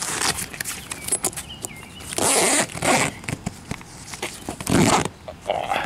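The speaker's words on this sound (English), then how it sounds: "Unzip it." A Bestop soft top side window on a Jeep Wrangler TJ being unzipped: several close, loud rasping zipper pulls in bursts, mixed with fabric handling and rustling.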